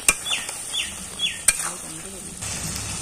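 A curd-based pointed gourd and paneer curry is stirred in a pot over a village clay stove, with soft sizzling under a few sharp metal clinks of a spoon against the pan.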